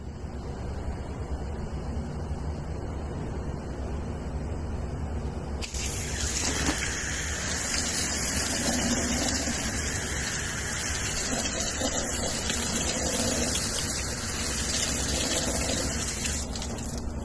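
Garden hose spraying water over the radio of a Harley-Davidson motorcycle fitted with a Roadie splash cover. A loud, steady hissing rush starts suddenly partway through and continues, close and uninterrupted, to the end.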